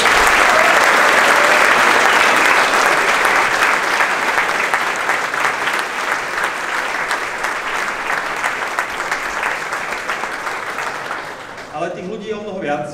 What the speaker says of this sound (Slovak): Myslím, že si tiež zatúžia potlesk.